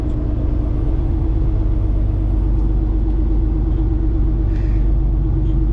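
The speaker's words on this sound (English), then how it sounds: "Check out that truck." An old 1978 Freightliner truck pulling in for a load of stone, its heavy diesel engine a loud, steady low rumble that holds unbroken throughout, close by with no talk over it.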